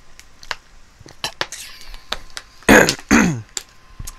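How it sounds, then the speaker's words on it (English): A person takes a drink and clears their throat at the same time, producing two loud, rough gurgling bursts in the middle, surrounded by faint clicks of computer keyboard typing. "Taking a drink and clearing my throat at the same time."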